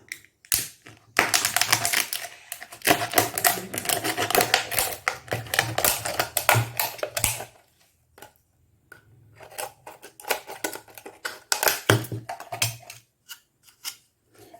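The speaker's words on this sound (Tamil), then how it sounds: "இப்போ நம்ம வாட்டர் பாட்டிலை அதே மாதிரி கட் பண்ணி எடுத்துக்கலாம்" Scissors snip through a plastic water bottle in a kitchen craft, a long run of dense, crisp crunching cuts near the mic with brief pauses, then more clipped cutting strokes toward the end.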